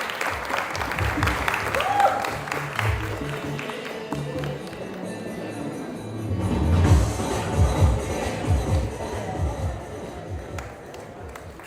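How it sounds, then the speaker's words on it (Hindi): Uneven clapping from an audience at a casual stage event, scattered and fluctuating, swelling again partway through, with voices and movement mixed in. "जोरदार तालियां दीजिए"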